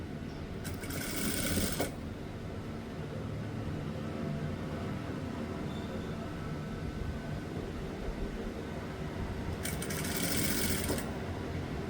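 A sewing machine stitches a shirt collar in two brief bursts of rapid whirring, one near the start and one near the end, over a constant loud background hiss.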